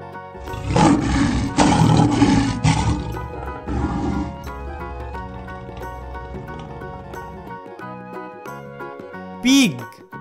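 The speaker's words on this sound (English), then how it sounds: "Lion." A lion roars in several loud, rough bursts early on over light jingly background music, which carries on alone afterwards and ends with a brief bright chime.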